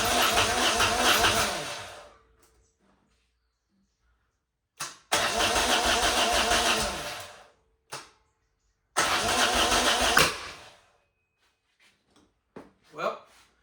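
A 1990 Moto Guzzi California III with the choke on cranks loud and close in three separate starter bursts of about two seconds each, each dropping off into silence, followed by a few faint knocks.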